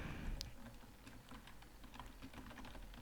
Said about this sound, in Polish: Tutaj wpisujemy Need for Speed Underground 2.